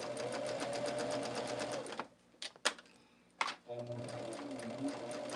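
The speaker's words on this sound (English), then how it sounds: "when I'm adding the borders, I like to backstitch" A sewing machine rapidly stitches a quilt border, pauses for a few clicks and clunks while backstitching, then resumes its fast, rhythmic whirring, with a voice talking over it.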